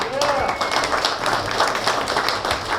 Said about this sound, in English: Let's give our contestants another round of applause